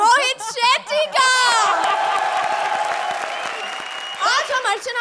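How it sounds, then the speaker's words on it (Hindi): Studio audience on a Comedy Circus stand-up comedy show breaks into loud, sustained applause with cheering. Speech comes before and after it. "round of applause comedy circus की सबसे मजबूत नींव के लिए अर्चना"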